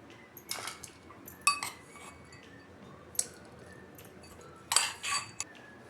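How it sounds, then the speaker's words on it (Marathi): Solapuri peanut chutney spooned out of a container, several light clinks and scrapes of a spoon against the vessel in irregular bursts, close and fairly quiet, with no talking. "आता आपण ही चटणी काढून घेऊया।"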